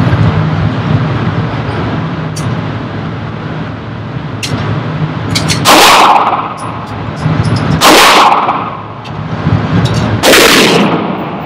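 Three loud gunshots from a CZ 75 P01 Omega pistol on an outdoor range, fired with handloaded ammunition, each sharp crack spaced about two seconds apart over a steady low background rumble.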